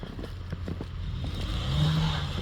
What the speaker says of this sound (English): The wheel's gonna be spinning.